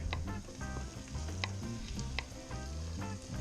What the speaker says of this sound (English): Alright, let's drop our crab in there.